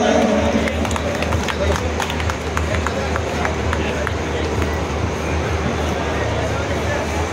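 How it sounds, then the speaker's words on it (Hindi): A large crowd at a public address by Lok Sabha Speaker Om Birla in Etawah claps loudly and continuously, a dense wash of applause mixed with crowd noise and voices over an amplified background. "माननीय लोकसभा अध्यक्ष ओम जी बिरला, जोरदार तालियों द्वारा"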